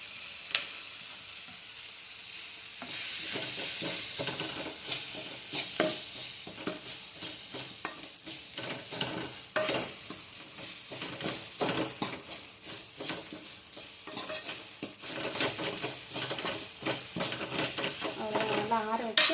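Grated coconut fries with tomato and rock salt in a pan for a country-chicken curry masala, with a continuous soft sizzle and repeated scraping stirs of a spoon against the metal.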